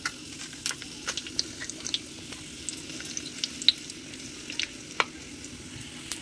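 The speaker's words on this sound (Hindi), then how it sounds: "मैं फटाफट तड़का लगा दूँ।" Spices, including chili and asafoetida, crackle and sizzle in hot oil for tempering, a steady close frying hiss dotted with sharp pops and spits, with no voices.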